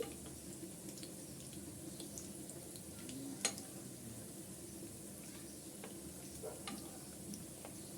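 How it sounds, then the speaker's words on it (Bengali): Chicken chops shallow-frying in oil until golden brown, a steady close sizzle and crackle running throughout with occasional sharp clicks of a utensil turning the pieces. "এভাবে উল্টিয়ে পাল্টিয়ে আমি গোল্ডেন ব্রাউন করে ভেজে নিচ্ছি"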